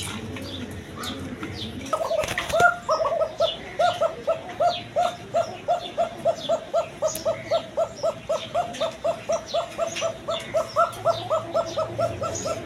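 A male Koka pigeon coos nearby in a long, steady series of short, evenly spaced pulses that starts after a brief bump and carries on clearly to the end.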